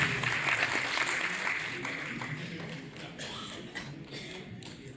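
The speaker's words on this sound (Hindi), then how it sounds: "जोरदार तालियां एक बार उपाध्यक्ष जी के लिए।" Audience applause at a formal birth anniversary event, clapping starting fairly loud and gradually thinning out into scattered claps as it fades.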